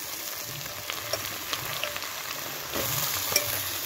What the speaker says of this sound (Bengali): ওর মধ্যে এবারে ঝিঙেগুলো দিয়ে দেবো